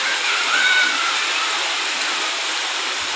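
Heavy July monsoon rain pours down in a village, a dense steady hiss of water with runoff rushing into an open drain, continuous and loud with no voices.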